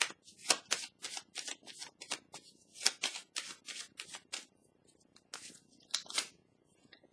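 Tarot cards are shuffled, handled and laid down on a table: a quiet, close run of quick papery snaps, flicks and slides in irregular bursts, with no voices.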